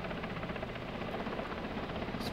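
Apache helicopter in the ARMA war game, a steady low rotor drone heard alone at moderate distance for a couple of seconds.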